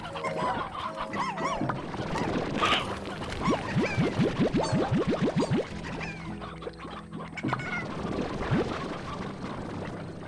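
Chickens cluck and squawk in the video game Slime Rancher, a busy run of quick rhythmic clucks over a steady ambient game soundtrack, with no talking.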